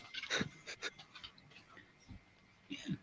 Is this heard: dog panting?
yes